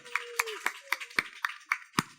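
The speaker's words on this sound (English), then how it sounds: "let's give them a huge round of applause for their service in the San Diego community" Sparse applause at a San Diego press conference: a handful of separate claps in an uneven rhythm, close and fairly faint, with a brief voice-like tone near the start.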